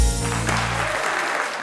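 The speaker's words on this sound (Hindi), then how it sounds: "ख्वातीनो हजरात, भरपूर तालियों में इस्तकबाल कीजिएगा।" A studio audience bursts into loud, sustained applause for a television talk show host, a dense wall of clapping that holds steady with no talk over it.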